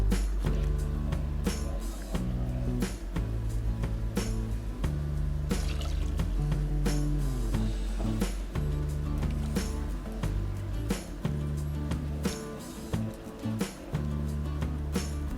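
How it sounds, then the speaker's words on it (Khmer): A pot of prahok broth, Cambodian fermented fish stock, bubbling at a steady boil, with continuous soft liquid popping and gurgling under a thin repeating musical background. "ឥឡូវទឹកប្រហុកវាពុះហើយបងប្អូន"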